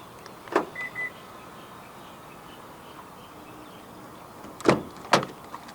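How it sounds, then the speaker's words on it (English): Short lock clicks and a brief electronic chirp from a 2023 Isuzu D-Max V-Cross 3.0 4X4 X-Terrain double cab as the trunk is locked via the front door handle button, several sharp clicks in a quiet setting. "To lock the trunk, press the button on any of the front door handles."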